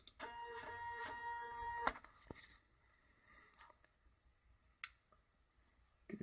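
A 3D printer moves its head while drawing. Its motors give a whirring, tonal hum for the first two seconds, then the sound drops to faint, scattered ticks and clicks.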